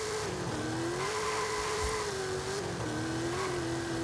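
A car in Forza Horizon 5 launches from a standstill on a winter map, its engine whining and climbing steadily, dipping at each gear shift as it rolls through the gears, loud and continuous.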